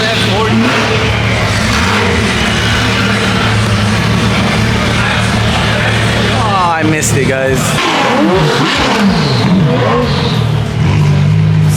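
A Ferrari F40 engine revs as the car drives past, a loud rising roar over steady road and cabin noise, with people talking throughout.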